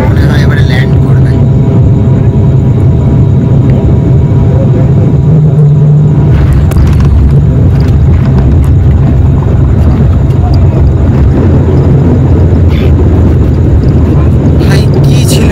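Inside the cabin of a passenger airliner descending to land on a Kolkata to Guwahati flight, a loud constant engine drone and low rumble fill the air while voices talk over it.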